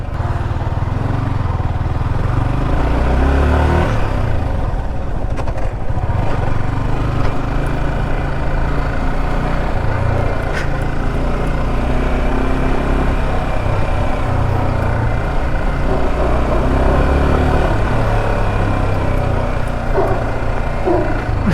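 A new Yamaha R15M motorcycle ridden slowly, its engine a steady low drone that stays loud and close throughout with a faint rising and falling pitch and no talk.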